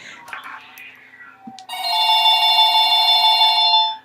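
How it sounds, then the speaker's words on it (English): A telephone bell rings indoors in one loud, sustained metallic trill lasting about two seconds, following a few faint rustles and handling sounds. "why does the phone have to ring just when I'm about to go ahead"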